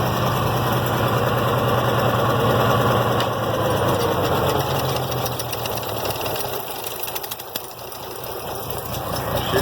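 An IH Farmall 706 tractor engine running steadily with the PTO engaged, a close, loud low rumble with a rattling, knocking texture, dipping slightly in load partway through before picking back up.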